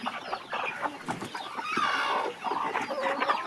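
Egg-laying hens cluck and murmur close by in nesting boxes, a busy overlapping chatter of several birds with a few sharper squawks.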